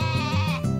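A goat in the farming game Harvest Moon: A Wonderful Life lets out one short, close, wavering bleat, loud and clear with no voices over it.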